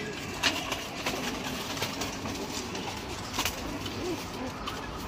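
Pigeons coo softly amid a continuous low background hum, the calls faint and scattered, with a couple of brief sharper sounds standing out.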